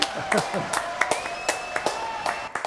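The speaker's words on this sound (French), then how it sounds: "Allez, on l'applaudit." Scattered hand clapping from a small audience, a few distinct claps in an uneven rhythm, with a voice speaking over it.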